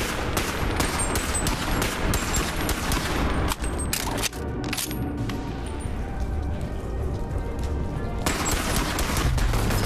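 Dense turret gunfire rattles on in sustained bursts during a Bonelab VR shootout, loud and close, dropping out briefly partway through before the automatic fire resumes at full intensity.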